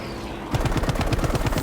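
A fighter plane's machine guns fire in Battlefield 5 on Wake Island, a rapid, loud burst of evenly spaced shots starting after a brief engine drone and running to the end.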